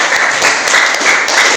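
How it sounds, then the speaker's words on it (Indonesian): Schoolchildren clap together in a classroom, a dense, steady patter of many small hands filling the room at fairly close range, with no talk over it. "Silakan boleh beri tepuk tangan anak-anak."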